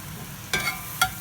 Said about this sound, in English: Gonna put it in our sizzling plate